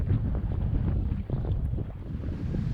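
Strong wind buffeting a sailboat in big swells, a loud continuous roar of gusts and microphone wind rumble with rushing water beneath, steady throughout.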